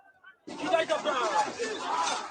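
An angry crowd shouts all at once in a dense, agitated roar of many voices, starting abruptly and continuing loudly to the end.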